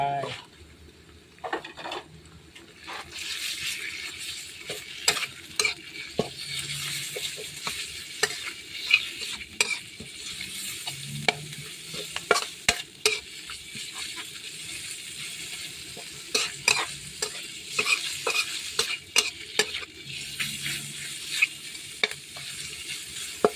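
Minced pork stir-fried in a pan for Thai basil pork with fried egg: continuous sizzle broken by frequent quick spatula clacks and scrapes at uneven intervals, close up, with a voice speaking now and then over the cooking.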